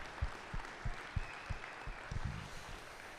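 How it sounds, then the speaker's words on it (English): A conference audience at a hacking festival in South Dakota applauds, producing a steady wash of clapping with a few louder individual claps, heard at a moderate distance with no talking. "let's give a round of applause for everybody that puts on Wild West Hacking Fest."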